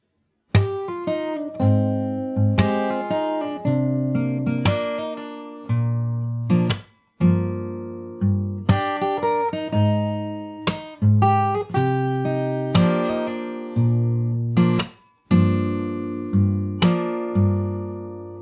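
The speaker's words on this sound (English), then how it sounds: "And after that you have the chorus which sounds like this." The chorus of a song on fingerstyle guitar: plucked melody over bass notes with sharp slapped accents, close and solo, flowing in phrases separated by two short breaks.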